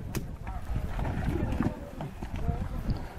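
Horses' hooves clatter on open ground during a fox hunt at Knocklong, a busy cluster of uneven clip-clops with background noise and a voice mixed in.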